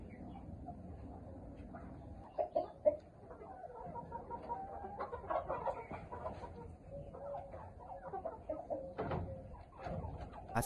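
Chickens cluck softly inside a sand-floored chicken house, scattered calls rising now and then over a low, quiet background.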